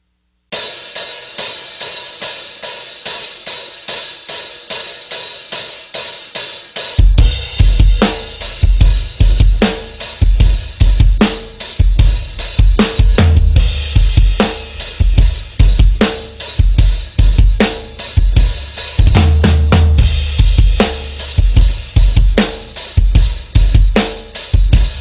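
Hi-hat cymbals, held slightly open with the foot, give a loud, sizzling, washy rhythm, first alone for several seconds and then joined by kick and snare in a driving drum beat.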